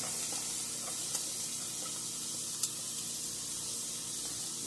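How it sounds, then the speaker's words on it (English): Small diced onions sizzling in a frying pan, a steady soft broadband crackle and hiss with a couple of faint clicks, moderately quiet and continuous with no talking. "now we're going to add some small diced onions"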